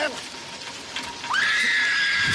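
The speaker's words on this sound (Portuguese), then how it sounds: "ela vê o dinossauro T-Rex e dá um grito, mas um grito" A young girl in a Jurassic Park film scene screams at a T-rex, a piercing high shriek that rises sharply and holds steady after a brief stretch of rustling background noise.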